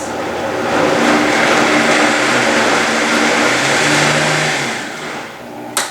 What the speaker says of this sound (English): you pulse and blend until it's nearly smooth